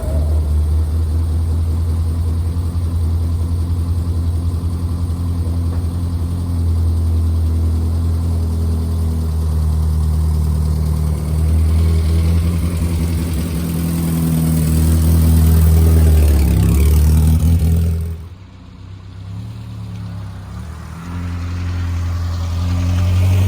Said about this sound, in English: now that the fluids have been checked, we can safely start it up and move it outside